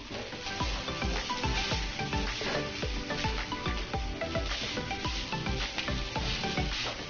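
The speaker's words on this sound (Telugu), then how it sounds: "ఇప్పుడు ఈ కూరగాయ ముక్కలన్నీ వేగిన తర్వాత ఈ నూడిల్స్ వేద్దాం. అంతా కలిసే విధంగా కలుపుకుందాము." Veg hakka noodles tossed with vegetables in a wok over high flame, a dense continuous sizzle with rhythmic scraping and stirring strokes throughout, loud and close with no voices.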